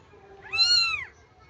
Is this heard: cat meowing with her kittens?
yes